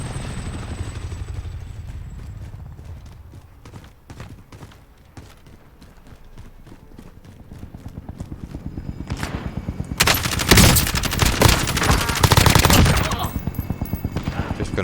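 Rapid gunfire in the video game Call of Duty Warzone, with quieter scattered shots at first, then a loud, dense burst of automatic fire and sharp cracks in the final seconds.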